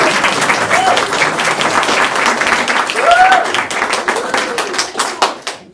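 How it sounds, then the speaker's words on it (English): An audience claps warmly before a Bible rap performance at a church talent sharing event, dense close applause with scattered whoops and voices over it, thinning out at the end. "let's give a round of applause"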